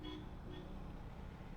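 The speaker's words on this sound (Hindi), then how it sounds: "पीछे से हॉर्न बजने लगा" Two short car horn toots heard faintly at a distance over a steady rumble of road traffic, recorded from a Duke 250 motorcycle.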